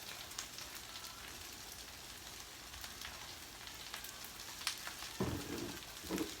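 Vegan meat seasoned with garlic, herbs, Himalayan salt and thyme sizzles faintly and steadily in a pan, a soft continuous crackle with a few louder pops near the end.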